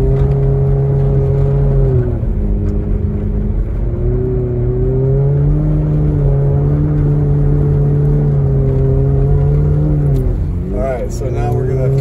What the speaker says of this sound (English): So now we're gonna kind of spin out of the parking lot here.